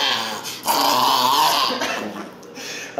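An excited dog growls continuously and loudly up close for several seconds, a rough rumbling snarl with whiny overtones.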